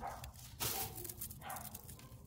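Neighbours' dogs barking near a house, with a couple of distinct bursts standing out over a steady background hum.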